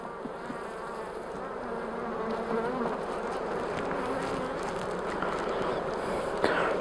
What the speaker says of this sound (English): it is good to see and hear a full box of bees again